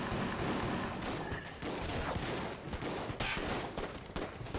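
Shotgun fire and dense combat noise in the Enter the Gungeon video game, a continuous loud barrage of overlapping blasts and impacts in a challenge room with no pauses.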